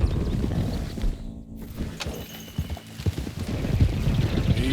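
Horses in Red Dead Redemption 2 walk with steady, close clip-clopping hooves on a hard path, with a possible faint whinny and no talking.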